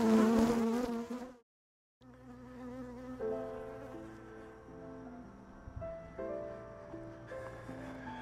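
Honey bees hum at their hives during a sourwood nectar flow in western North Carolina, a close, loud buzz at first, then a brief silence and a steadier, softer droning with shifting tones.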